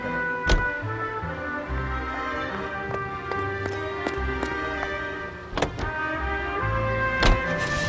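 Car driving in the 1940s Los Angeles crime game L.A. Noire, a steady engine hum with occasional sharp thumps and knocks, continuous and moderately loud throughout.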